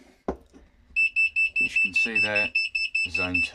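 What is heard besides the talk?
fire alarm sounders going off during zone test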